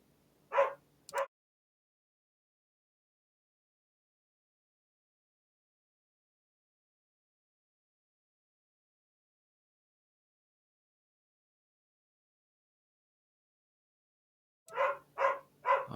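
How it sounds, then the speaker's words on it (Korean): A pet dog indoors barks in short bursts: a couple of yaps at the start, a long silence, then three more barks near the end, moderately close. "저 개새끼가 왜 이렇게 짖지?"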